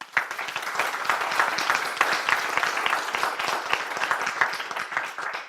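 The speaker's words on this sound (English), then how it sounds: "So they really all deserve a round of applause." Steady applause from an audience, dense overlapping claps filling the whole stretch at an even, moderate loudness with no voices.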